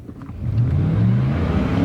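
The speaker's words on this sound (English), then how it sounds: "We'll stop it and step on the gas." An old truck's engine roars up close under hard acceleration, the low growl climbing steadily in pitch and holding loud with no traction control.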